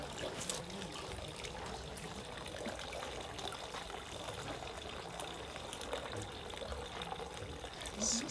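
Drinking water fountain at Nara Park in Japan running steadily, giving a continuous close trickling, splashing wash that stays even throughout, with no talking.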